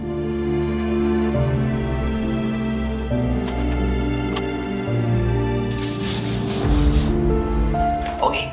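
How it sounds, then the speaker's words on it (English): An eraser rubs steadily over a graphite drawing, giving a continuous, close scratchy friction sound with a brief brighter flurry of strokes near the end, with no talking. "now we're gonna take the eraser and we're gonna"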